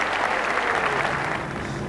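Snooker crowd at a 1988 Waterloo last-16 match applauds, a dense, even roar of many hands clapping close and loud, slowly easing at the end.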